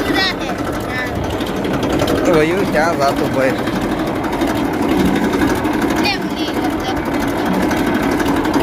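A tractor engine runs with a continuous rattling chug on a farm field, holding a steady rhythm close by while people talk over it.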